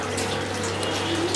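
Water pouring steadily from a tap, a continuous close splashing rush with a low hum beneath, moderately loud and without talk.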